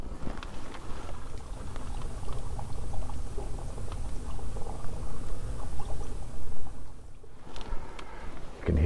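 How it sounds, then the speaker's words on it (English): Water runs steadily through a drain, a continuous broadband rushing and gurgling that holds at a fairly even level for the whole stretch, with no voices. "You can hear the drain is working fine."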